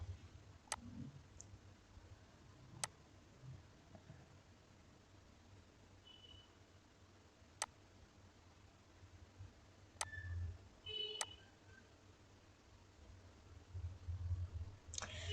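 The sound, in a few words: computer mouse clicking in Canva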